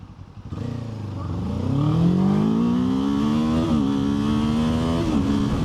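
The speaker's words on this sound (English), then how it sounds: "when I roll onto the accelerator, once we get this green light, it's gonna pull strong." A Kawasaki Ninja 7 Hybrid motorcycle pulling away hard with electric boost, the engine note rising steadily in pitch through the gear, loud and close, with a short dip at each shift.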